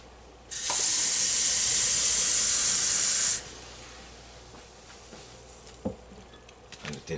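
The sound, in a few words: pouring a cup of water into the mixture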